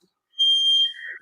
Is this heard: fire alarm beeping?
yes